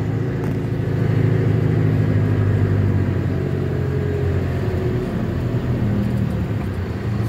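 Restored 1949 Chevrolet 3100 truck cruising along a road, its engine a constant low rumble mixed with road and wind noise, steady and fairly loud without any talking.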